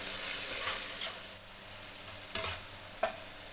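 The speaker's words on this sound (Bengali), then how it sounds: "দিয়ে এটাকে খুব ভালো করে মিশিয়ে নিব" A potato chilli mixture frying in a pan, a bright continuous sizzle with occasional stirring scrapes and two distinct spatula knocks late on.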